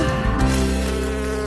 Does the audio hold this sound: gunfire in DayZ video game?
no